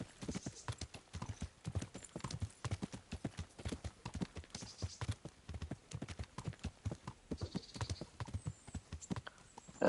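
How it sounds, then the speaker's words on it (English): Horse hooves galloping in the medieval video game Kingdom Come: Deliverance, a quick steady run of clip-clop beats, moderately loud and close, with a faint snort at the very end. "Now that's a nice horse."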